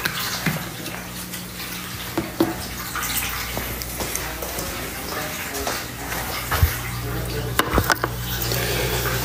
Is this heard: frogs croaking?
no